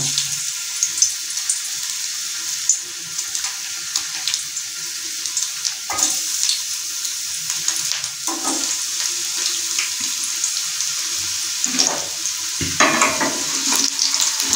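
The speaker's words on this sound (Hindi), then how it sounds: "इसमें हम लहसुन को काट के बारीक इसमें डालेंगे कुकिंग ऑयल में" Finely chopped garlic fries in hot cooking oil in a frying pan, a soft continuous sizzle with occasional stirring scrapes and clatter, fairly close.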